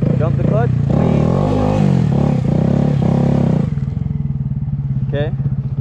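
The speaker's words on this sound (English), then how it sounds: "So I give it some gas, dump the clutch, lean." A Honda Grom motorcycle revs hard and its clutch is dumped to start a drift on blacktop, a loud close buzzing engine note that climbs, then drops to a rough idle with a short rev near the end.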